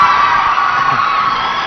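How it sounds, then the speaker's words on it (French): Audience at a televised Christmas special in Chad cheering loudly for children, a steady dense crowd roar with whoops and shouts sustained throughout, no clear speech. "On applaudit très très fort pour les enfants"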